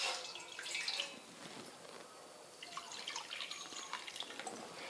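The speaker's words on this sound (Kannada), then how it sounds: "ಈಗ ಇದಕ್ಕೆ ನೀರು ಹಾಕ್ಕೋತೀನಿ ನೋಡ್ರಿ" Two cups of water poured into a steel pot, a faint, close splashing and trickling stream running steadily throughout.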